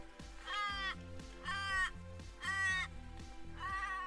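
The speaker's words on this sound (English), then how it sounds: "And the melancholy sound of a cawing crow" A crow caws four times in slow, evenly spaced harsh calls at a remote outback heritage siding, moderately near over a steady low background hum.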